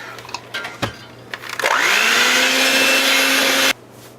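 An electric mixer or blender whirs steadily for about two seconds, mixing flour, baking powder, baking soda, salt and cinnamon for apple praline bread, after a few light knocks and clatters.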